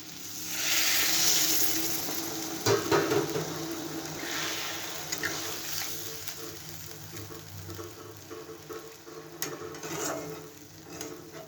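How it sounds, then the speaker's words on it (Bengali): Water poured into a hot pan of mustard-paste vegetable curry, giving a soft hissing sizzle and bubbling that swells early and then settles into quieter simmering crackles. "এবার আমি একটু জল দিয়ে দিব"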